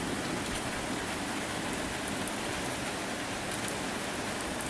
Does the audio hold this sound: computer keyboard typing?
no